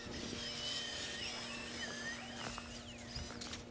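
An E-Flite Micro Draco 800mm bush-style RC plane flies overhead with a high, whining electric motor and propeller buzz that rises and falls in pitch as it passes nearby.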